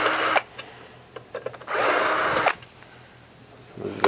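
A power driver with a T20 Torx bit backs screws out of a dehumidifier's electrical box, with short whirring bursts, one longer run of about a second, and clicks and handling sounds between them.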